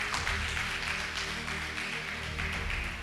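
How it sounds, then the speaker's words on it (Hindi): Audience clapping during a Hindi-language church sermon, a steady dense wash of many hands clapping together, loud and continuous throughout, with no voices. "ताली नहीं बजाएंगे आप?"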